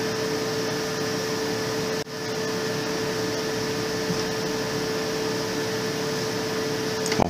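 A Lexmark T520 laser printer warming up before a test page gives off a constant mechanical hum with a steady tonal whine and fan-like hiss, briefly dipping once, then running on evenly.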